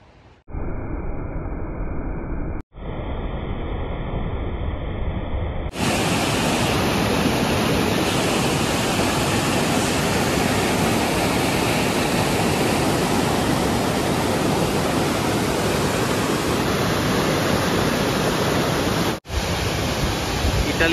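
A waterfall in the hills near Schilpario, Italy, roars as a steady, dense broadband rush of falling water, loud and continuous throughout with no talking.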